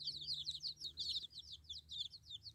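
Young chicks and a gosling chirp in a rapid, continuous stream of high peeps, fairly quiet, over a low background hum.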